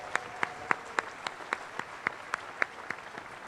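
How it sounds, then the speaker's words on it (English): At an outdoor Fourth of July evening pageant, the audience claps in a steady, even rhythm, about a dozen sharp synchronized claps heard from a distance over quiet open-air background. "Let's give another round of applause to show our appreciation for all those involved in making today a success."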